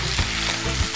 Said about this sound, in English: you fry on high heat initially because you just want to brown the outside of the meat